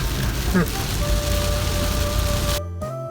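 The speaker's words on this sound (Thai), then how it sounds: "ตอนนี้ฝนตกหนักมาก" Steady heavy rain in strong wind drums on a moving car throughout, a dense broadband wash with a faint tonal hum, ending in a brief muffled cut-off.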